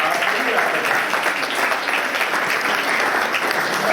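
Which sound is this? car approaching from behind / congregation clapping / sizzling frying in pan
congregation clapping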